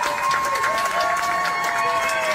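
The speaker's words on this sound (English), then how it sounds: "basking in this applause that he begged for" An audience at a stand-up comedy show cheers and claps for a first-time comedian, a loud crowd roar with whoops and tonal shouts held steady throughout.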